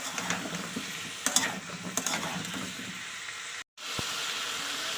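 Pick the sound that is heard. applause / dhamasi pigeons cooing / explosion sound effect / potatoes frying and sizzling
potatoes frying and sizzling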